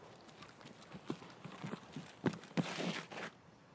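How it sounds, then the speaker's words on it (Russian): Footsteps of someone running in the game Escape from Tarkov, a series of quick irregular thuds that grow louder and denser toward the end, heard alone over faint background noise. "Кто-то бегает."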